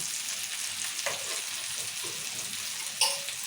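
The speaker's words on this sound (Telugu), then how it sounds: "ఇప్పుడు ఇక ఫ్రై అయిపోయినాయి తీసుకుందాం" Masala-coated fish pieces fry in a pan with a continuous close sizzle, a few soft stirring scrapes, and a sharp clink near the end.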